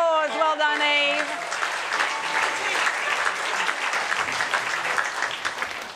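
Studio audience applause on a music quiz show, a dense, steady clatter of many hands that fills the room loudly from the start, with a brief sung or spoken voice at the opening before the clapping takes over.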